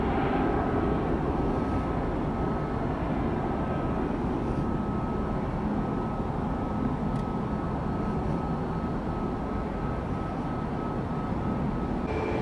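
A Southwest Airlines jet landing at Tampa airport, heard as a steady, loud broadband roar of engine and airflow that holds evenly through the whole stretch with no talk over it.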